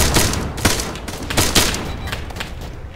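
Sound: gunshots from the left during field exercise

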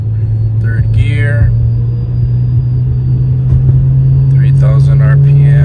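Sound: single turbo car accelerating in third gear

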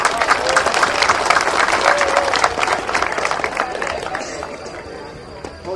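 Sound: applause for Marija

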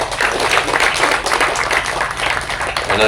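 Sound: audience applause

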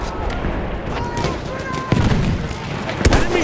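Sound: machine gun fire in a World War I video game

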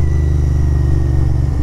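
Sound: Royal Enfield Interceptor 650 motorcycle engine revving

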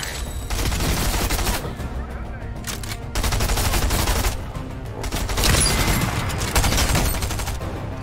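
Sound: gunfire in Fortnite video game

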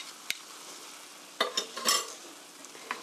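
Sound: stirring japchae ingredients together in a bowl

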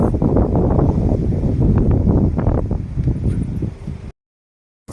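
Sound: strong wind

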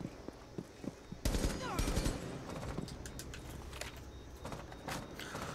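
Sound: gunfire in Rainbow Six Siege video game

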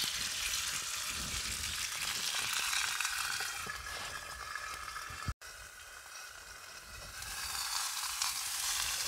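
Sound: steak sizzling while frying at a wild camp

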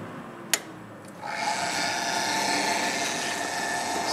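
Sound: VWR refrigerated water bath circulator pump running

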